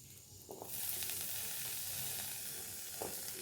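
Chopped onion pieces hiss and sizzle steadily in hot oil, a soft continuous frying sound that swells as they hit the pan, with a few faint clinks of stirring.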